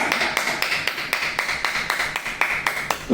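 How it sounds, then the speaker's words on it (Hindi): Audience at a Hindu satsang clapping together, a dense run of rhythmic, fairly even handclaps at close-to-mid distance, steady throughout with no talking over it. "तो बजाओ फिर जोरदार तालियां मेरे भाई"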